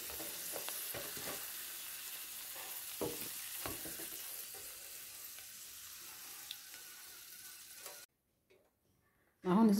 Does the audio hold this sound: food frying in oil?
yes